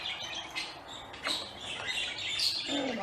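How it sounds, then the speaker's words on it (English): Several small pet birds chirp and chatter indoors in quick, overlapping bursts, close by, with no voices. "Oh, my birds are really chattering away today."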